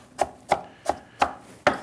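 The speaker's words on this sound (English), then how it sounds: "for chopping it up fine, we do the same thing" A knife chops food finely on a cutting board during preparation of stuffed butternut squash, five crisp, evenly spaced strikes about a third of a second apart, close and clear with no talking.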